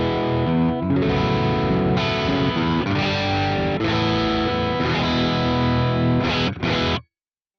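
Guitar through the compressor in Archetype Plini X with its level at noon, driving the amp into a crunchy, distorted tone with strummed chords and short gaps, ending abruptly after about seven seconds.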